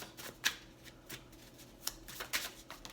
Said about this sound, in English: I don't want to spend too much time shuffling cards